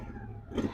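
A Craftsman lawn tractor engine runs on ethanol-free fuel, idling smoothly with a steady low rumble that swells slightly near the end.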